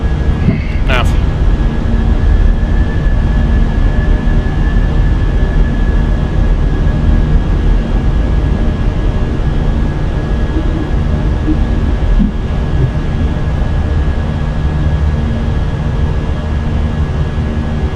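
Airbus A320 jet engines in the Fenix flight simulator roar steadily during the climb after takeoff, a dense continuous rumble with a faint whine above it and a brief click near the start.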